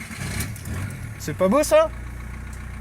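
An old TDI 110 diesel engine cranks, catches and settles into a low steady idle, with someone speaking briefly over it.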